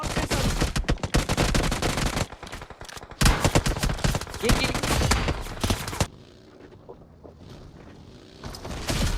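Loud bursts of rapid automatic gunfire in BGMI (PUBG Mobile) during a tournament fight, dense close volleys that stop abruptly, leaving a quieter stretch with faint sounds.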